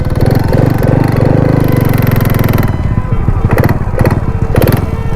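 A motorcycle engine with a knocking fault runs loud and close, a rough, uneven mechanical rattle that surges and then breaks into irregular bursts as it sputters.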